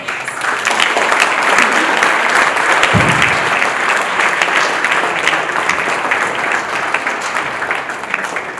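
An audience applauds warmly at a Miss Mauritius 50th-anniversary gala in honour of the national pageant's organiser, with steady, loud, sustained clapping filling the room from start to finish and no voices on top.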